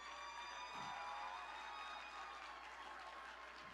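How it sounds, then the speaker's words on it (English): Applause from the audience at a gala dinner, a dense, even patter of many hands clapping together, steady and continuous throughout, fairly faint and heard without speech over it. "can you just give a round of applause to your table host just to say thank you?"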